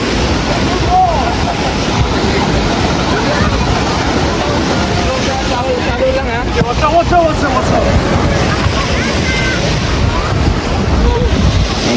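Ocean surf rolls in steadily at San Juan surfing beach in La Union, a continuous loud wash of breaking waves with strong wind buffeting the microphone throughout.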